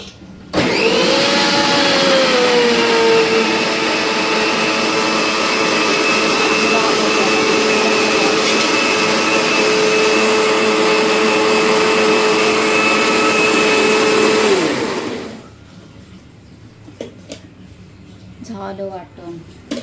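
A mixer grinder whirs steadily while grinding a spice paste for a spicy black crab curry, a loud continuous motor drone that runs for about fifteen seconds, then stops, leaving faint kitchen sounds behind.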